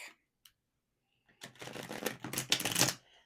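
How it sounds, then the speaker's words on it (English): A brisk riffle of shuffled tarot cards, close and crisp, rattling for about a second and a half after a quiet pause. "As I'm shuffling the tarot,"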